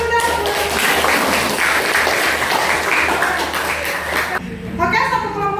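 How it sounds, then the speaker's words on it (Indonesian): Audience applause at an Indonesian group presentation event, a loud burst of clapping lasting several seconds, then cutting off as a voice speaks briefly at the end. "Beri aplaus dulu dah."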